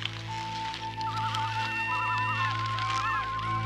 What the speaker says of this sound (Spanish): Esos pájaros me ponen muy remolón.